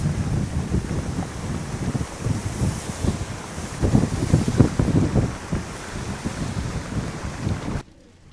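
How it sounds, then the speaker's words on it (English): Hurricane Earl's ocean surge floods a coastal parking lot, with heavy, steady wind roaring into the microphone over the rush and crash of waves, loud and close for about eight seconds before cutting off. "The ocean just came and totally inundated the parking lot."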